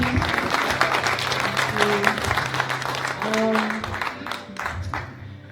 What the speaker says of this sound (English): Can I get another round of applause?